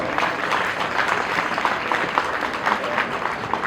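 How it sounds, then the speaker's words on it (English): Audience applause at an appreciation ceremony for Ganesh Chaturthi committee teams: a steady, dense wash of many hands clapping throughout, fairly loud and continuous with no pauses. "Please give him a big round of applause."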